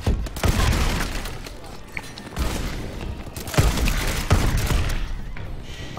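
Shotgun blasts in a Call of Duty match: several heavy booming shots spaced a second or two apart, loud and close, over game noise.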